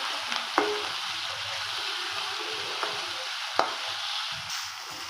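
Vegetables, including finely chopped brinjal, sizzle and fry steadily in a hot pan for sambar rice, a close crackling hiss broken by a couple of sharp utensil clinks, with no talking.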